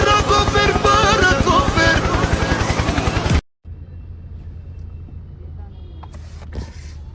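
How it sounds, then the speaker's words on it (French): A helicopter flies overhead, a loud steady rotor chop and engine roar that cuts off abruptly, leaving a quiet background with faint distant noises. "Hélicoptère, hélicoptère."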